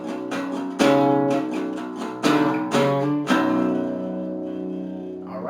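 An electric guitar plays an intro riff with open low strings. Sharp strummed chords come at an uneven rhythm, followed by a ringing sustained chord, heard close and clear with no talking.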